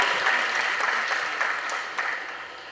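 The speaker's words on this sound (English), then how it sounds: "Give her a round of applause." Audience applause at a youth conference, a steady wash of many hands clapping that holds fairly loud throughout and eases slightly toward the end, with no talk over it.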